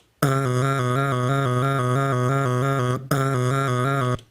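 A sustained voiced tone jumps abruptly between two pitches in a steady rapid on-off rhythm, with a brief break partway through.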